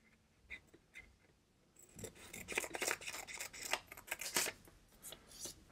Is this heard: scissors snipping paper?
yes